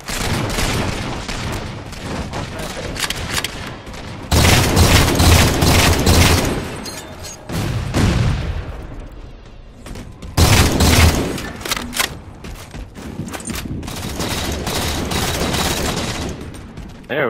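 Halo 4 gunfire in a Slayer multiplayer match: loud, dense bursts of rapid shots with booming impacts, pausing briefly and then resuming, close and dominant throughout.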